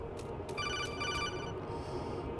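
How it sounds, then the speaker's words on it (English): A telephone rings in Metal Gear Solid 2, a bright electronic trill repeating in quick pulses for about a second over a steady hum of background game sound. "Just keep answering phone calls till Snake gets here"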